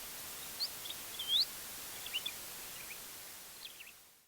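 A few short, high bird chirps come through a steady hiss of added Gaussian noise that blankets the whole recording.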